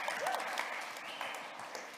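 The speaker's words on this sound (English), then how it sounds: "Clap it up for him." A church congregation claps for their pastor during a Sunday service, a dense burst of steady applause throughout the brief moment.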